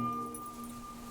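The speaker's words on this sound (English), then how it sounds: "I like that we can hear the dog's dog tags" Dog tags on a dog's collar jingle in the Farewell North game, a soft metallic chiming with a clear ringing tone that hangs briefly, heard alone and at close range.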